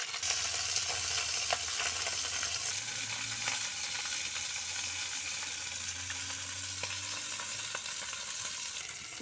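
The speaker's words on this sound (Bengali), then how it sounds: "বন্ধুরা আমার মাছ ভাজা হয়ে গেছে আমি তুলে নিচ্ছি" Fish sizzles in hot oil in a kadai, a steady, close hiss with occasional pops and faint low hum beneath, continuous throughout with no talking.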